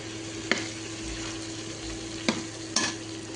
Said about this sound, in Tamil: இஞ்சி பூண்டு வாசனை போனதுக்கப்புறம் அரிஞ்சு வச்சா தக்காளியை சேர்த்துக்கிறேன்.